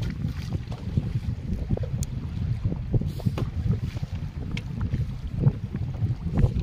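Strong wind blows across the Brahmaputra river, heard from a fishing boat out hilsa fishing, a steady low rushing roar with buffeting gusts and light knocks, no voices.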